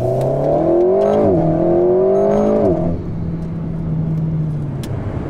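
An Alpine A110S sports car accelerates on a motorway, its engine rising in pitch through two quick gear changes before settling into a steadier, quieter cruising hum with road noise.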